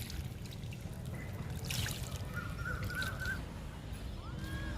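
Liquid fertilizer is poured onto a fruit plant in summer, trickling in a soft, steady stream, with faint birdsong chirping in the background.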